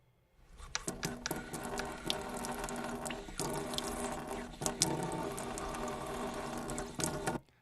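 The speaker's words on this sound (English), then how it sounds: "Pigs drinking fountain short water bursts" A pig drinking fountain lets out short bursts of splashing, pattering water, with sharp gushes and drips close by against a quiet background.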